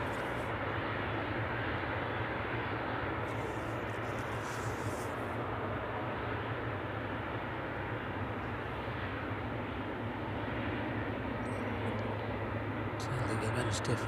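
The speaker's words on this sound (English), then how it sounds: "Just stick with this ATR just for a minute or so while that one gets a little closer." An ATR turboprop airliner approaching East Midlands Airport in the evening gives a steady, loud broadband drone with a low engine hum underneath, holding fairly constant throughout.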